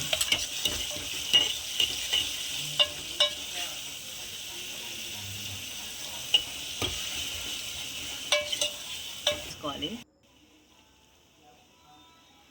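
Chicken masala sizzles in a pan as it is stirred for biryani, with scraping spoon strokes and clatter over a steady frying hiss before it cuts to near silence.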